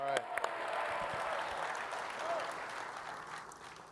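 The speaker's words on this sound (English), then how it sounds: "Let's give them a big round of applause." Audience applause for volunteers at a SOLIDWORKS community conference, a broad wash of clapping from a large hall crowd that opens with a few sharper claps and holds steady for several seconds, with faint voices mixed in.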